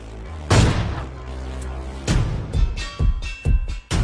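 Several loud gunfire bursts and booms from a Free Fire mobile game shootout, a heavy blast near the start followed by a string of sharp, closely spaced shots later on.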